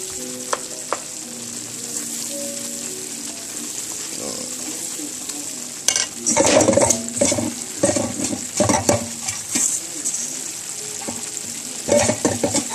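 Gumbo roux with onions sizzling in a pot for Louisiana gumbo, stirred with a steady bright frying hiss and bursts of louder scraping and crackling as the spoon moves, close and loud, no talk over it.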